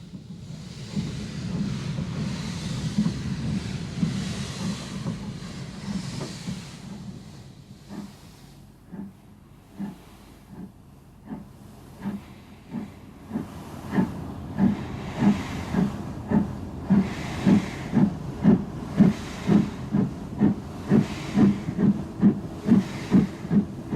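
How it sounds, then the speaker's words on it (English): Wood-burning steam locomotive number 1150 hauls hopper wagons on the Kemijärvi line in northern Finland, hissing steam giving way to sharp rhythmic exhaust chuffs that quicken and grow louder as it works closer. "number 1150, which we see for the last time taking a load of hopper wagons up the Kemijärvi line"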